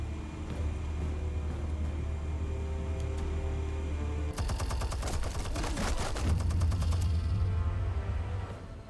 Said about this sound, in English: It's a random turret gun.